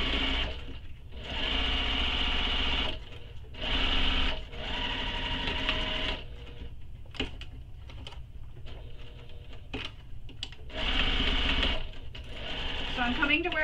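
A domestic sewing machine sews a bag's fabric in several loud stretches of steady whirring, with brief reverse backstitch bursts at the seam ends. Short pauses and light clicks fall between the runs.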